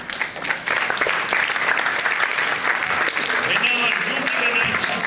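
A classroom of students clapping together after a correct answer, a loud, sustained burst of applause lasting several seconds, close and filling the room, with voices faintly mixed in.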